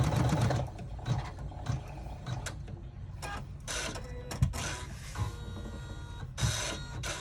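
An embroidery machine stitching an in-the-hoop cell clutcher wallet runs with a steady mechanical chatter, broken by bursts of rapid back-and-forth stitching that fade and return, close and moderately loud, with no talking.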